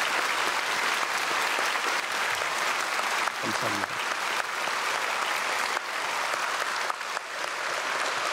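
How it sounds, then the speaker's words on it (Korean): A large congregation at Sunday worship in Myungsung Church gives sustained, loud applause for the senior pastor, a dense wash of many hands clapping, with a brief word of thanks spoken partway through. "우리 사랑하는 원로 목사님께 마음을 담아서 크게 박수로 한번 축복하겠습니다."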